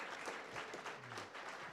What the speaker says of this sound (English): why don't you all give yourselves a round of applause for your participation in community and ethnic media